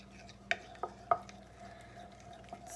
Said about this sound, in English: Stir, stir, stir, stir, stir.